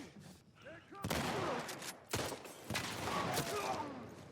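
Gunfire in The Last of Us video game, heard as several loud, sharp bursts spread across a few seconds over a rumbling, noisy background.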